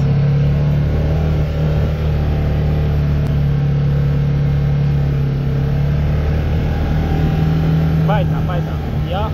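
A car engine pulls and accelerates steadily while driving through the Erg Chebbi sand dunes, a continuous loud drone that runs through the whole stretch, with a voice briefly heard near the end.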